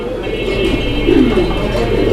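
A male pigeon coos in a loft of high-quality fancy pigeons, its low throaty calls rolling steadily and close, with other birds audible behind.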